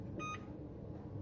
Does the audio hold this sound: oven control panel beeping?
yes